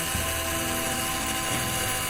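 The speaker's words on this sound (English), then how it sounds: "I'm going to drill some fairly small holes" Power drill whirring as it bores small holes in the bottom of a plant pot, a steady close motor whine with brief shifts in pitch as the bit bites.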